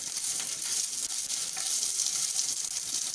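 Food sizzles and crackles steadily in a hot pan, with a bright continuous hiss and small pops throughout, as coarsely ground raw ingredients are briefly fried for a hara bhara paratha.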